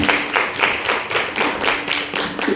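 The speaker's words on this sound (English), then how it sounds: "Clap and applause this house." Audience clapping and applause at an AI summit certificate awards event, a steady run of loud, dense hand claps swelling in rhythmic bursts for a few seconds.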